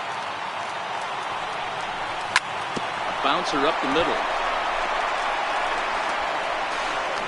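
Stadium crowd in a PS4 baseball video game roars steadily as more than 37,000 fans rise to their feet, a dense continuous swell beneath a play-by-play commentator's voice, with a sharp crack partway through.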